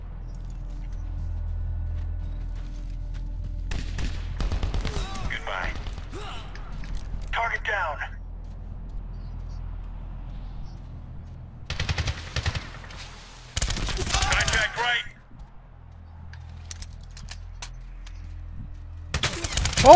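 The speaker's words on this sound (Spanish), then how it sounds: "¿quién me está disparando?" Gunfire in the PC game Medal of Honor (2010), with sharp bursts of automatic fire and single shots coming in separate clusters between quiet gaps, close and loud, with someone talking at times.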